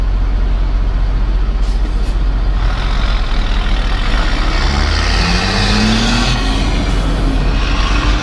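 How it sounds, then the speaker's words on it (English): A noisy straight truck drives close by, a loud, continuous low engine rumble with a rising gear whine later on, heard from inside a moving vehicle. "that's a noisy little straight truck, ain't it?"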